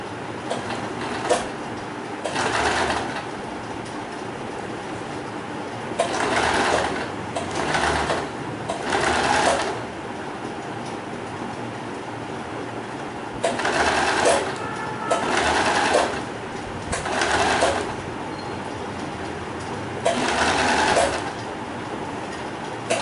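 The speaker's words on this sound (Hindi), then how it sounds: "सिलाई लगानी बिल्कुल धीरे धीरे है, क्योंकि गोलाई में हम सिलाई लगा रहे हैं" A sewing machine stitches a satin ribbon dress slowly along a curve, running in several short bursts of rapid whirring with quiet pauses between them.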